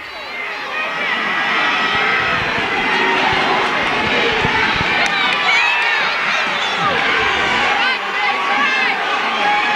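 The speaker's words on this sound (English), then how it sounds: "Crowd screaming, boy." Loud, dense crowd at a high school wrestling match, with cheering, shouting and children's yells rising and falling continuously throughout, close and unbroken.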